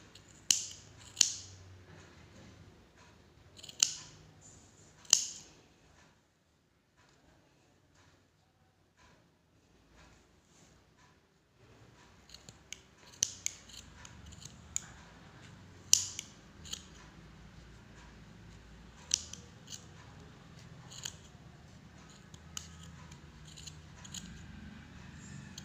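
Scissors snip through wool yarn while a pom pom is being trimmed, giving sharp, close clicks in clusters with a quiet pause partway through, then many lighter, irregular cuts over faint rustling.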